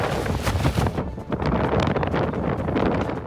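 Strong gusting wind from Storm Lilian, reaching around 70 miles an hour, buffets the microphone at Leeds Festival in a loud, continuous roar with rushing surges throughout.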